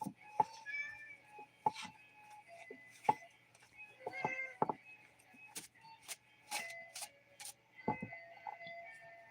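A house cat meows several times indoors, short repeated calls at moderate distance, with faint ticking clicks scattered between them.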